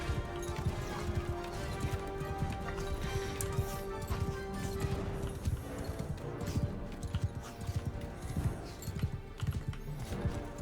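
Horse hooves in Mount & Blade 2 Bannerlord clatter in a rapid, steady clip-clop across a busy battle soundscape, with a faint whinny and crashes mixed in.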